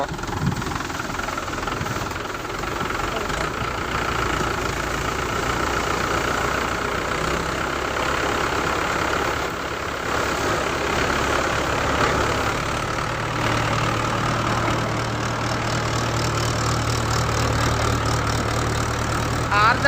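A new tractor-driven thresher runs steadily while threshing mustard in a village field, giving a continuous, loud mechanical drone with an engine hum that holds level for the whole stretch.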